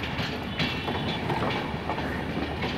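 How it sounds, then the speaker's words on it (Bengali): A train rolls along the railway nearby, a continuous loud rumble with rhythmic wheel clatter throughout and no voices. "দুটো ট্রেনেরই ভিডিও করলাম"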